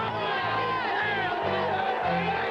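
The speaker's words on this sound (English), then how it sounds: "fuel the emotions of the most vocal Pittsburgh crowd in more than a decade" Loud, roaring football stadium crowd at a 1992 Pittsburgh Steelers game, a dense sustained wash of cheering and shouting throughout with no break.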